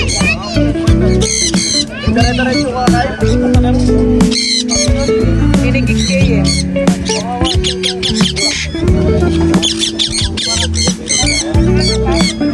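Loud, busy squawks and chirps from many pet birds close by, being readied for free flight, mixed with constant human chatter and background noise throughout.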